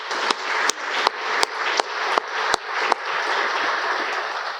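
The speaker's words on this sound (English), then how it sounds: "a round of applause real quick for the sponsors" An audience at a Marine Corps association opening ceremony claps in a steady round of applause, broad and continuous with sharper individual claps standing out, and no talk over it.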